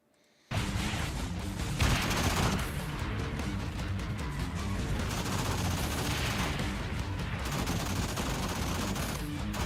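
Dense, nonstop gunfire from a horde shooting vehicle combat racing video game, loud and close, with rapid overlapping shots and blasts continuing without a break after a short quiet start.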